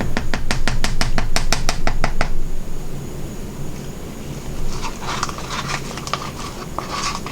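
A tool scrapes freshly poured black resin across a tray in a quick, regular run of strokes, then pauses before a softer, scattered set of scrapes.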